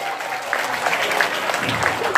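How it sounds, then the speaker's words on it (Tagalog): Loud clapping from a contestant's spouse at a fan event with a comedic host, a steady dense patter lasting the whole moment, close and strong. "Lakas ang palakpak ng asawa mo."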